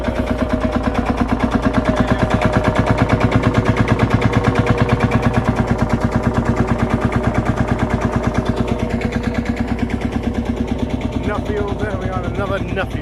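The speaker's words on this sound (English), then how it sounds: "You can hear the thud of the engine there." An old Field Marshal single-cylinder diesel tractor running at a vintage vehicle show, a loud, steady, rapid thudding beat close by that continues without letup, with voices faintly under it.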